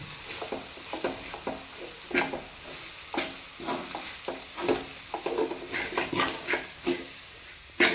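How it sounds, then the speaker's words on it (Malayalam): A spoon stirs spiced chicken curry frying in a clay pot, making quiet, rhythmic scraping strokes roughly every half second over a faint background sizzle. "അപ്പോൾ അതൊന്ന് ഇളക്കി കൊടുക്കാം നമുക്ക്."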